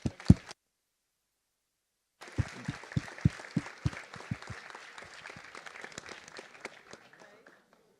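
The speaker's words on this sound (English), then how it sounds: "So let's give him a huge round of applause." Conference audience applause: a brief burst of claps, a silent gap, then a swell of clapping that starts with strong individual claps and thins gradually to a few scattered ones before fading.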